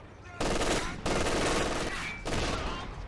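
Machine gun fire in the video game Company of Heroes 2, heard as three dense, sustained bursts of rapid automatic shooting separated by brief gaps, loud and up front.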